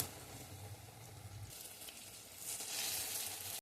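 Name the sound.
curd punugulu fritters deep frying in oil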